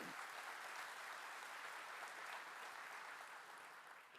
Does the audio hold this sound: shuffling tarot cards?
no